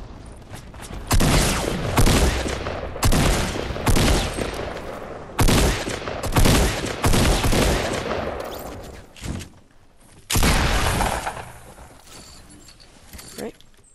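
Burst Assault Rifle and SCAR gunfire in Fortnite: loud, rapid bursts of shots in several separated volleys, with short gaps between them and a final burst after a brief lull.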